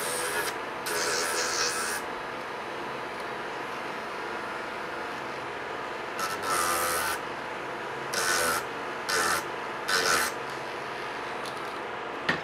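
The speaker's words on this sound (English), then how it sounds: "sanding this down." Hand sanding of a model, a steady rough rubbing rasp with several bursts of harder strokes, close up and alone.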